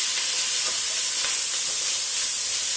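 Meat browns and sizzles in a hot pan for spaghetti sauce, a steady close broadband hiss and crackle with occasional soft stirring, no voices.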